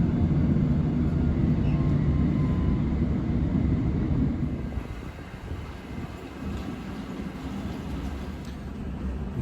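A London Underground train rumbles in to Amersham, a steady loud low roar of wheels and motors that eases down partway through as it slows, heard from inside the carriage with no talk.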